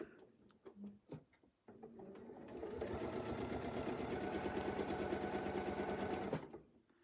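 A sewing machine runs steadily, machine-quilting a Baptist fan design a quarter inch from existing stitching. A few soft handling clicks come first, then a close, continuous rapid stitching hum that stops abruptly near the end.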